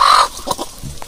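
Three laying hens going through a molt cluck and cackle close by in short, uneven bursts, one louder call at the start followed by softer murmuring clucks.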